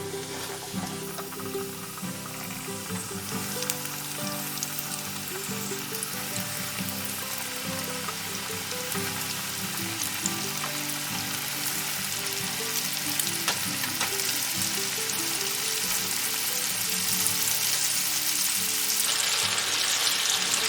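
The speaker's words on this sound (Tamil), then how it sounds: "இப்போ நம்ம இதை பொரிச்சு எடுத்துடலாம்." Flour-coated chicken tenders deep-fry in hot oil, making a loud, steady, close sizzle and crackle that runs without a break throughout.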